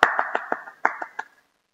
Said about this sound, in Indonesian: Kita tepuk tangan bersama-sama.